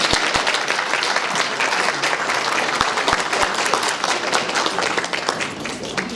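A crowd gives a sustained round of dense, steady applause to welcome the new president of California State University Stanislaus and her husband at a campus reception, loud and continuous throughout with occasional louder individual claps.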